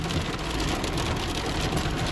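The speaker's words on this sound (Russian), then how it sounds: "Просто град." Hail pelts down steadily outdoors in stormy weather near Moscow, a dense unbroken roar of hard drops beating on surfaces that never lets up.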